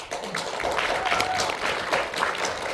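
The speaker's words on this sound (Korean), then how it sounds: "여러분 박수 크게 한번 보내주세요" Clapping from the audience at a Korean internet journalism award ceremony as a special prize winner is honoured, a steady mid-level round of many hands that starts abruptly and carries on.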